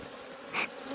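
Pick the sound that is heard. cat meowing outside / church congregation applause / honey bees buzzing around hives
honey bees buzzing around hives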